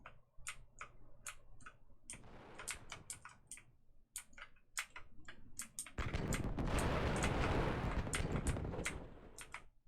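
Gunfire in Battlefield 3 Legacy on PSP: sharp, rapid game shots crack in irregular bursts, with a dense roar of sustained firing or explosions building loudly in the second half.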